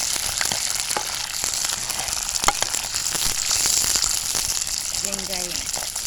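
Curry leaves and garlic hit hot oil for a pirandai kuzhambu, producing a loud, steady, close sizzle with constant crackling and popping throughout.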